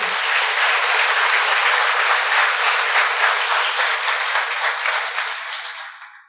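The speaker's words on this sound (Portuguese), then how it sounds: "a quem eu pediria uma salva de palmas bem calorosa" Warm, sustained applause from an audience at a spiritist group's lecture, close and even clapping that holds steady for several seconds, then fades out at the end.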